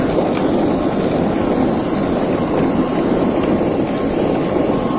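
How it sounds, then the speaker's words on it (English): Airplane at an airport giving a loud, constant broadband roar with a steady engine whine, unbroken for the whole stretch and with no talk over it. "That is the plane."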